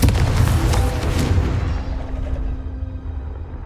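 In Hogwarts Legacy a Confringo fire spell explodes with a heavy booming blast that rumbles on and slowly fades, loud and close, with no talk.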